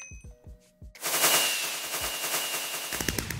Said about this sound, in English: I appreciate the fireworks, but it's very,